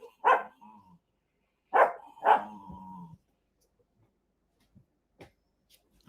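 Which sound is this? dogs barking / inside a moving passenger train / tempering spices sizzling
dogs barking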